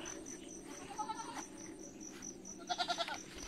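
A goat on a rural farm plot in the province bleats briefly from a distance. Crickets chirr steadily underneath, and a rapid series of louder chirping pulses comes near the end.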